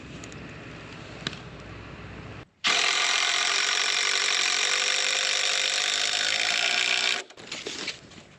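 A power driver sinks a purlin screw to fasten a board on a post frame garage: quiet handling, then a loud, steady whirring drive of about four and a half seconds that stops abruptly, nearby.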